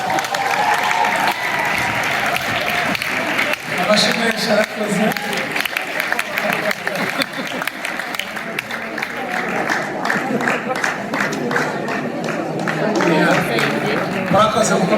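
A congregation at a Four Square church applauds in a long, steady wash of clapping, with someone speaking through much of it.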